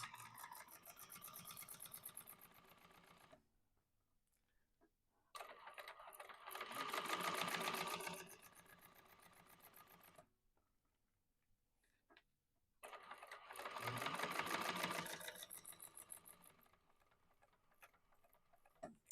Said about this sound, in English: so I'm going to chain stitch these again.